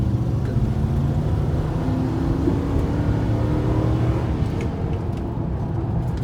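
A 2004 Nissan Titan pickup truck accelerates on the road, its engine a steady low rumble with a smooth rising whir heard from inside the cab, continuous and fairly loud.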